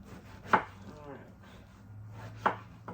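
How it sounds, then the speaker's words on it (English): A knife cuts an eggplant into half-inch pieces, making two sharp, close chops on a board about two seconds apart, with quiet pauses and a faint murmur between them. "I'm going to chop it maybe about 1/2 inch thick"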